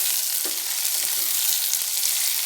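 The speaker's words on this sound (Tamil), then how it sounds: "இப்போ நம்ம வெங்காயம் போட்டுடலாம் சின்ன வெங்காயம் போடுங்க" Small onions dropped into hot oil in a pan, sizzling steadily and loudly with a few soft clinks of stirring, no voices over it.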